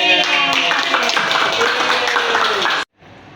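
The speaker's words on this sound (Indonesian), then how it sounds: "Tepuk tangan dong." Applause in a classroom, dense overlapping hand claps filling nearly three seconds at steady loudness before cutting off abruptly to near silence.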